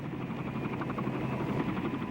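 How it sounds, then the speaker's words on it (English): Helicopters land and take off inside the U.S. Embassy grounds during the fall of Saigon, a loud, steady rotor thrum with rapid blade chop filling the whole stretch and no voices. "helicopters were landing and taking off from inside the grounds"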